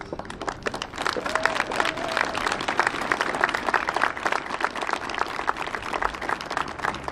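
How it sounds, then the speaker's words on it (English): An audience at the Wicomico Public Schools Teacher of the Year event claps for the semifinalists. The applause is dense and sustained, with many hands at a steady loudness for the whole stretch. "Please give a round of applause for all of our semifinalists."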